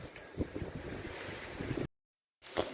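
Strong outdoor wind buffeting the microphone in a steady, rough rumble with a few heavier gusts, broken by a short dead-silent gap before resuming.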